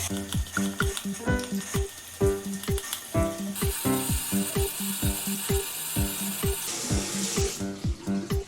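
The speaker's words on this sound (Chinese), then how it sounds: "拿到水龙头下面仔细刷洗干净" A washing machine's filter box is scrubbed under a running kitchen tap, with water streaming steadily while brisk, rhythmic brushing strokes repeat over and over, close and loud.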